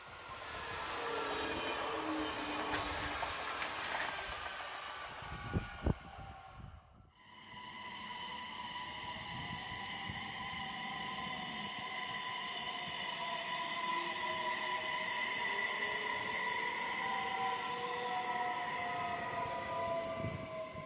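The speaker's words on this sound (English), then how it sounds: "the first long-distance passenger train is making its way towards Engelsfors" A model railway passenger train rumbles along steadily with a sustained horn-like tone and whining hum, continuous and fairly faint throughout.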